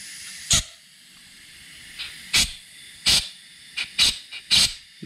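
Compressed air blown into an engine's back end, hissing out past a leaking seal on a broken-down truck: a series of about seven short, sharp hiss bursts at irregular intervals, close and fairly loud against a quiet background.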